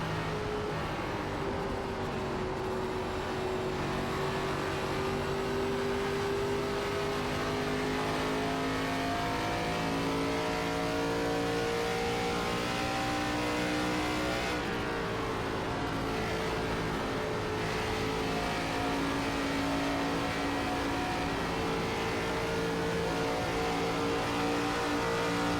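ARCA stock car engines in the iRacing simulator at Darlington, a continuous high-pitched racing drone that rises and falls steadily with gear and throttle changes, loud and unbroken throughout.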